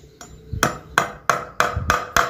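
A hammer drives a nail into wood with about six sharp, ringing blows, close by and evenly spaced after a soft knock at the start.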